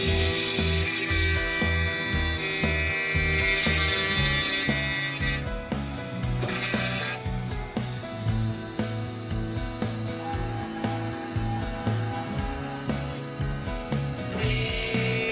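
A Roland desktop milling machine cuts a 3D part, giving a steady whirring, grinding drone with rhythmic low pulsing and shifting tonal whine as the cutter moves across the workpiece, continuous for the whole stretch with no talking.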